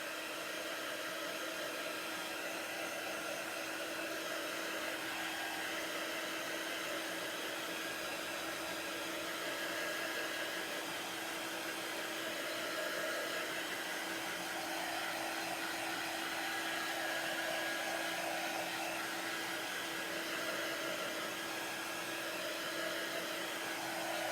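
A hair dryer runs continuously at close range, a loud, even blowing drone, drying a beach-themed craft project with no talking.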